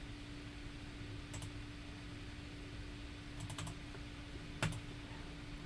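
Typing on a computer keyboard while filling in a form, with a few sparse clusters of keystrokes over a steady fan-like hum; the clicks are quiet and close.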